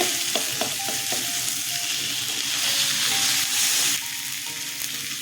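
Tomatoes and a spoonful of coriander hit a hot frying pan of spiced oil for a tengra fish curry, giving a loud steady sizzle with stirring clinks and scrapes throughout; no one speaks.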